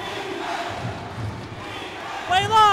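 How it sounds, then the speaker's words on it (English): Home basketball crowd at CIS Arena during a 2014 ABL game, Saigon Heat versus Singapore Slingers, roaring steadily on their feet with a broad noisy wash, swelling louder near the end as whistles or shrill cheers cut through. "Crowd in a frenzy at CIS Arena"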